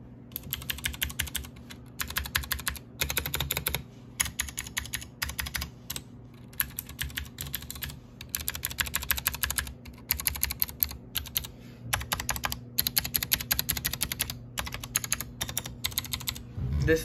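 Rapid, clicky keystrokes on a Ducky One 2 Mini mechanical keyboard with blue switches, in uneven bursts with short pauses, crisp and close, over a faint low hum.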